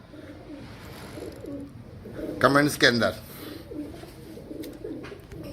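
Soft, repeated coos from fancy Battera pigeons murmur in the background while a person speaks briefly in Urdu or Hindi in the middle, louder than the birds.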